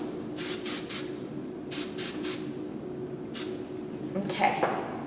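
Hairspray spritzed onto a bridal updo with extensions, heard as a few short hissing bursts in quick clusters over low room hum, fairly close and moderately loud.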